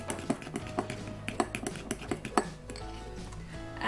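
Spoon stirring dandelion root coffee with milk and egg in a cup, a quiet series of irregular light clinks and taps against the cup, close up.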